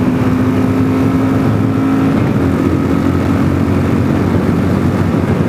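A 2022 Kawasaki KLR650 fitted with a Yoshimura RS-2 exhaust holds a long wheelie, its engine a steady, loud, unbroken drone blended with heavy wind roar close to the rider.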